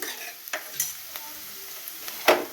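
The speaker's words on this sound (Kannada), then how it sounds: "ಒಂದು ಸ್ವಲ್ಪ ಕಡಲೆಬೇಳೆ ಹಾಕಿ ಅದನ್ನ ಒಂದು ಸ್ವಲ್ಪ ಫ್ರೈ ಮಾಡ್ಕೊಬೇಕ್ರಿ" Chana dal frying in a pan, heard as a soft, low sizzle with a few scattered stirring clicks and one sharper scrape near the end.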